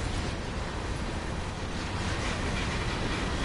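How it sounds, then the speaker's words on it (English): A train rumbles steadily in Train Sim World 2020, a broad, continuous roar of running noise with no clear rhythm, heard alone and fairly full for a few seconds. "So we're going to be parking our train soon."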